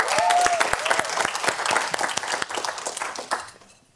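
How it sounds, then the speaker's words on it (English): An audience applauds at a Skoll World Forum 2018 storytelling event, a dense wash of many hands clapping nearby that fades out toward the end, with a brief whoop early on. "Please, everyone, give a round of applause for Alpha."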